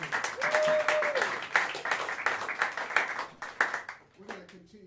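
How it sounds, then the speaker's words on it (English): A crowd claps steadily in a small jazz club room, with whoops and a person talking over the applause as it tapers off. "How about another round of applause"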